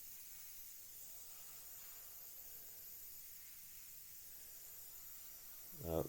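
An airbrush sprays Tamiya paint in a test of the flow before mottling the underside of a 1/32 Revell He 111 model, giving a faint, continuous airy hiss that holds steady, with a brief knock near the end.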